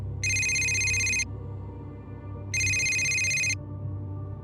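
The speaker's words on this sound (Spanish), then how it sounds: "Sonó mi celular." A mobile phone rings in two bright electronic bursts, each about a second long and separated by a pause, clear and close over a low background hum.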